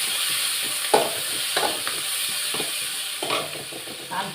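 Green chillies and curry leaves fry and are stirred in a pan, a steady sizzling hiss broken by repeated scraping and stirring strokes, close and loud with no talking.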